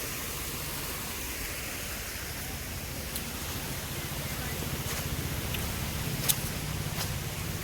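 Water pouring steadily from a pipe near a temple, a constant broadband rush holding even and close throughout with a few faint clicks on top.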